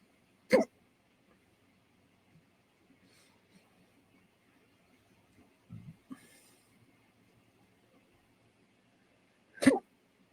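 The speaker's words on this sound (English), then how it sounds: "Now I have hiccups." Three soft hiccups come from a person sitting quietly while crocheting, spaced several seconds apart, each one a short isolated gulp in a near-silent room.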